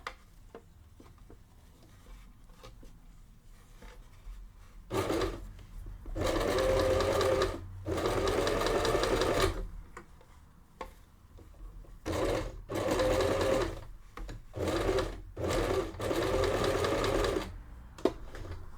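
A sewing machine stitches bralette fabric in loud whirring bursts of several seconds each, broken by quiet pauses filled with soft handling and rustling of cloth.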